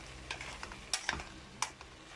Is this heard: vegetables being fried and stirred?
yes